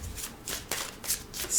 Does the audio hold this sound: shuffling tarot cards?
yes